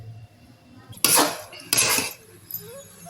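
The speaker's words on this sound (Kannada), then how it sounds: "ಇವಾಗ ರವೆ ಹಾಕ್ತಾಯಿದ್ದೀನಿ. ಸ್ವಲ್ಪ ಹಾಕ್ಕೊಂಡು ತಿರುಗಿಸ್ಬೇಕು ರವೆನ." Semolina stirred into boiling water in a pot for vegetable upma, heard as two loud scraping strokes of a spoon against the metal pot, each about half a second, followed by quiet.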